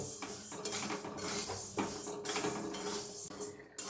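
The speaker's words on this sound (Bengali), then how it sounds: "প্রথমে আমি মুগ ডালটা হালকা লাল করে" Mung dal is lightly fried and stirred in a pan, heard as a run of rhythmic, dry scraping and rattling strokes about twice a second, close and moderately loud, with no speech.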